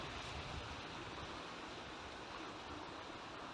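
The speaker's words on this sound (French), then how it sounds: "au bord d'un torrent, avec le bruit de l'eau, en plein soleil" Mountain torrent flowing in full sun beside a picnic spot, a steady broadband rush of water, continuous and moderately faint, with no voices.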